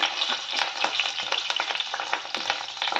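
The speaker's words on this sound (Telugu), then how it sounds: "ఇప్పుడు ఇదే ప్యాన్లో ఆనియన్స్ ఫ్రై చేసుకుందాం" Onions, ginger and green chillies fry steadily in a pan, giving a continuous close sizzle with light stirring clicks throughout and no voices.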